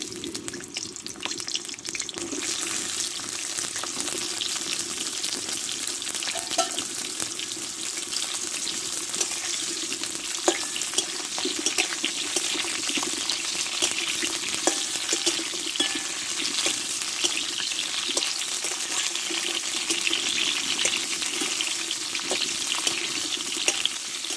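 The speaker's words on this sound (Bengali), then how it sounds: "দেখো পটলগুলো আগে কষে নেবো ভালো করে" Pointed gourd fries in hot oil with a constant loud crackling hiss, with occasional stirring clicks, close and continuous.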